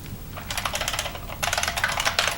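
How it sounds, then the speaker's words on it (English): Rapid typing on a computer keyboard, a steady stream of close, crisp key clicks that grows busier and louder partway through, with no voices. "Your typing sounds like a Pit Boy."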